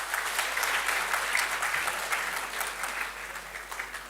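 Audience applause at an office Women's Day celebration, a dense steady patter of many hands clapping at moderate distance, continuing evenly for several seconds without voices on top.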